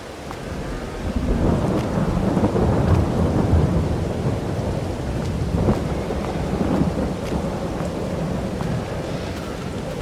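Rain pours steadily with rolling thunder in Farming Simulator 22, a dense hiss of rainfall with deep rumbles swelling and fading across the scene.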